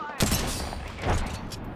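Video game battle royale firefight: a couple of close, sharp bursts of gunfire, each a quick rattling cluster of shots, with a dull background between them.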